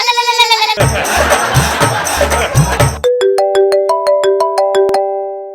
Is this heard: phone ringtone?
yes